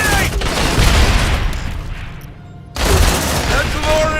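A grenade explosion and rapid gunfire in the Aliens: Dark Descent video game, a loud booming blast with bursts of shots that cuts off abruptly into a short lull before the firing resumes.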